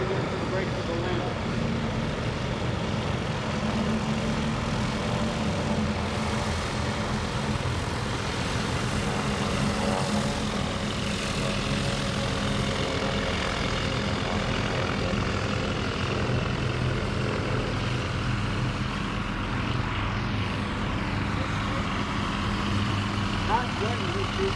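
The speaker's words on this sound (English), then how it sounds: "eyes low to the left again as we get another group coming in for the break of the landing" Warbird aircraft in formation flying in for the landing break at an air show, a steady, loud propeller drone filling the whole stretch with broad rumble and no gaps.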